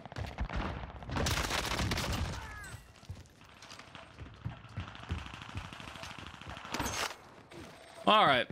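Bursts of rapid gunfire crackle in an intense exchange in Call of Duty: Warzone on Rebirth Island, with scattered shots and booms, mixed with game effects and some chatter.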